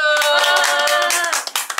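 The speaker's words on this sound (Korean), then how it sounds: "게스트 박수." Brief clapping for a guest joining a small talk show, a short burst of a few hands over a lingering musical tone, then a couple of sharp separate claps near the end.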